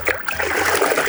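Water trickles and drips steadily for a moment from a large red sponge lifted out of a bucket of Optimum No Rinse car-wash solution, close and fairly loud with no talking.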